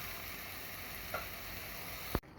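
Pre-cooked beef added to sautéed shallots in a pan, a close, steady sizzle with a brief clatter near the end before it cuts off abruptly.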